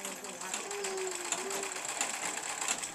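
A sewing machine stitching cloth for school uniforms runs in a steady fast whirring patter, close and fairly loud, while a person speaks over it.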